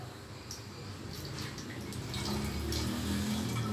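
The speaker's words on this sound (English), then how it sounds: "So now please open the bottle and then put the water into the bottle." Water poured into a plastic bottle during a science class, a soft continuous trickle that grows fuller and louder as the bottle fills.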